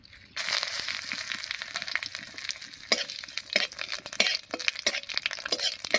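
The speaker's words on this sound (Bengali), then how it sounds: "তেল গরম হয়ে গেছে এবারে গোটা জিরা শুকনো লঙ্কা আর তেজপাতা দিয়ে ফোড়ন দেবো" Whole cumin, dried chillies and bay leaves hit hot mustard oil in a pan with a sudden loud sizzle, then crackle and spit steadily while being stirred, with scattered sharp pops and no talk.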